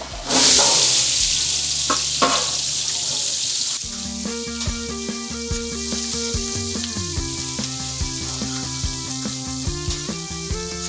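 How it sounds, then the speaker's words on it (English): Onions and carrots sizzle in a Vulcan VG30 braising pan in a professional kitchen. A loud hissing burst at the start settles into steady frying, with clanking utensil knocks repeating over the rest. "So I'm gonna add the onions and carrots."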